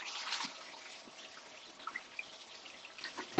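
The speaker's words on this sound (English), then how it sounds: "let me just run the water" Tap water runs into a kitchen sink while chicken linguine is being cooked, making a faint, steady trickle and splash with a few soft drips.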